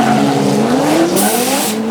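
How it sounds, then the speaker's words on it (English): A drift car at a D1NZ drift event at Mt Smart Stadium screeches its tires in a loud, sustained squeal over a roaring engine, close and continuous throughout. "we know the speed of Andrew Redwood's car"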